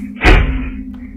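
A single heavy door thuds shut in a horror game, one loud low slam followed by a faint second knock.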